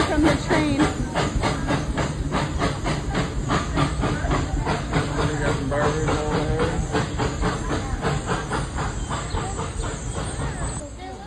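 A small zoo train at the Omaha Zoo chugs past nearby with steady rhythmic puffing, hissing and clacking that keeps going throughout.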